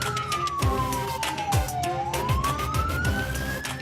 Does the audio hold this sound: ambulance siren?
yes